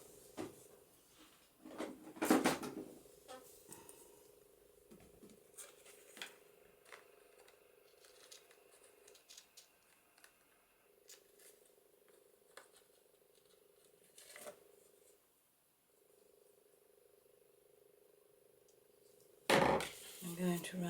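Scissors snip through lace for a papercraft journal embellishment, with a few close, crisp cuts and some handling rustle, mostly under a person talking.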